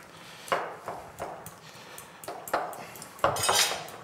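A fork mashes a hard-boiled egg in a dish for a sole-strip and tartare recipe, giving a series of close, scraping clinks of metal on crockery in uneven strokes with no talk.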